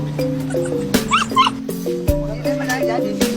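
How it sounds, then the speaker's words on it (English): Dogs at a dog market where animals are sold for meat, yipping and whimpering in short bursts under steady tonal background noise, with people talking nearby. "these, actually, to be fair, look more like the kind of dogs I was expecting to be bred for eating"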